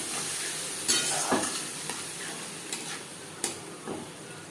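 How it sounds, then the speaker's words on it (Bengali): Onions frying in a pan with ginger, green chili and tomato paste added for a fish curry sizzle steadily, with a few sharp spoon scrapes and taps. "2-3 মিনিট পেঁয়াজ হালকা করে ভেজে নেওয়ার পর দিয়ে দেবো আদা ও কাঁচা লঙ্কার পেস্ট, একটা বড় সাইজের টমেটোর পেস্ট।"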